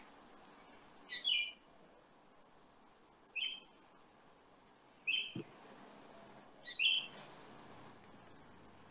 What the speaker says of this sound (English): Is that a bird chirping?